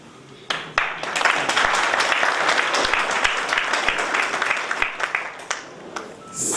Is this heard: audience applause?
yes